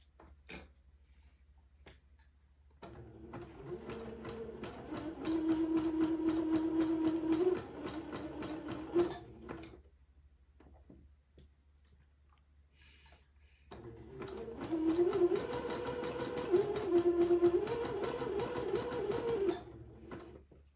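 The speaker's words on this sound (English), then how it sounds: "I'm going to very slowly start zigzagging the inside part of the insertion lace" Domestic sewing machine zigzag-stitching insertion lace onto a collar, running in two steady humming bursts with a quiet pause between them, each burst lasting several seconds with no talking.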